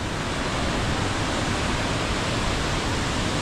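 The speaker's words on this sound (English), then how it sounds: "And that is the river on its way to the Columbia River." A river in the Columbia River Gorge, Oregon, rushes in a dense, continuous roar of water, loud and steady throughout with no other sounds.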